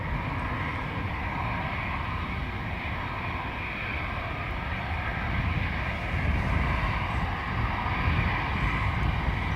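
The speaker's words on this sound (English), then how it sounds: "Very early rotation for the 320neo." An Airbus A320neo takes off at Dublin Airport on a wet, windy day, a steady broad engine roar that swells slightly toward the end, heard from a distance without talk.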